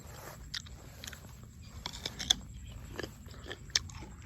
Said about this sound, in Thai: กรอบครับ ท่านผู้ชม กรอบมากครับ กรอบนะ กรอบจริง ๆ ครับผม